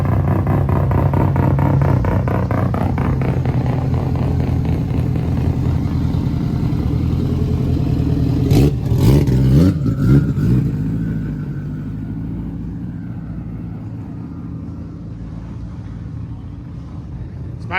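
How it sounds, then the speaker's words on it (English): A Mazda RX-7 pulls up at a cars-and-coffee meet in Winter Park, its engine a close, loud, steady rumble that briefly swells before easing to a quieter idle. "we got an RX-7 pulling up"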